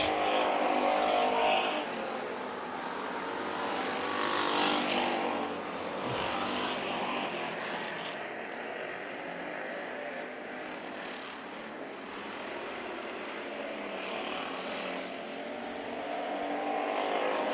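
Race cars at Bakersfield Speedway roaring around the track during heat races, engines rising and falling in a continuous loud drone as the pack passes.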